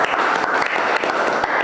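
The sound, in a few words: applause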